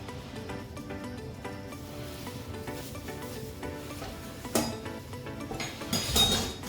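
A cooking pot is set on a stove with clinks and metallic knocks of cookware, a few louder clangs near the end over a steady low background.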